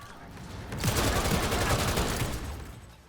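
Gunfire in a cloud-streamed video game: a brief, close burst of rapid shots crackles for about two seconds, then fades out.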